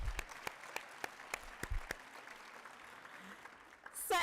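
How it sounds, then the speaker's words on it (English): Scattered handclaps from an auditorium audience at a school welcome event, sparse and fairly faint, sounding in loose separate beats before fading, with a brief louder burst at the very end. "So we'll give you a round of applause ahead of time."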